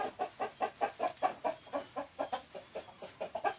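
Thai fighting roosters cluck steadily in their carpeted room, a fast run of short, close, moderately loud calls repeating in an even rhythm with no voices.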